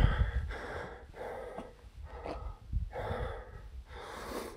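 Heavy, rhythmic panting right at the microphone after a climb up a Mayan pyramid at the ruins of Calakmul, Mexico, with about five loud breath cycles of deep inhales and exhales and no talking.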